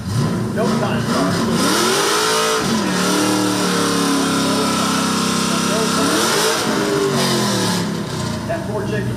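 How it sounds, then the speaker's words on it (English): Nitrous-assisted fourth-generation Camaro drag car roaring close and loud at the strip, the engine climbing and falling through revs, holding a long high-pitched pull before dropping off. "That 4th-gen Camaro nitrous assisted."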